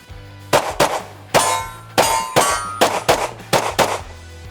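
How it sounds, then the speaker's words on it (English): Glock 17 pistol firing lightweight 116 grain ammunition at steel plates: eight sharp metallic clangs in quick succession, each shot ringing off steel with a brief decay, loud and close with no talk. "Okay, Glock 17 with the lightweight 116 grain ammo."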